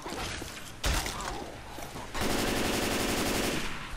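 Sustained automatic gunfire in the co-op zombie shooter Left 4 Dead 2 on the Dead Center campaign, loud and dense, with a sharp shot and then a continuous rapid burst, no talk.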